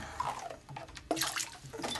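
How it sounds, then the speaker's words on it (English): Water and a little bleach slosh and swish inside a reverse osmosis filter container, with quiet, irregular splashing and liquid movement close by. "I'm gonna swish it around."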